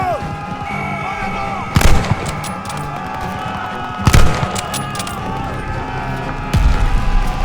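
A World War II battle in Call of Duty Vanguard rages with a continuous roar of machine gun and rifle fire, punctuated by three heavy, booming bursts of gunfire and explosions.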